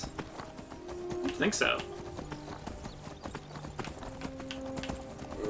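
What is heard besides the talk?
horse hooves clip-clopping in the video game Skyrim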